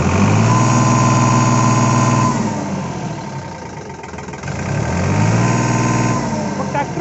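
A New Holland 3600-2 Super tractor engine runs steadily at close range, a loud droning rumble that dips briefly in the middle before rising again.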